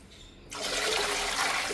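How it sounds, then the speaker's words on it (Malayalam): After a brief quiet moment, water starts pouring into a pot, a close, continuous gushing splash that holds steady to the end. "ഇനി വെള്ളം ഒഴിച്ച് കൊടുക്കാം"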